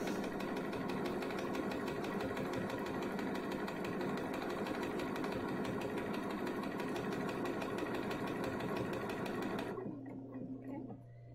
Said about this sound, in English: Just finished sewing the 4th repeat.